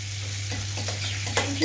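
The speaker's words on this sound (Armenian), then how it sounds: "կեչուպ և սմետան, և խառնում ենք" A spoon stirring ketchup and sour cream together, soft wet scraping and squishing, moderately close under a steady background hum.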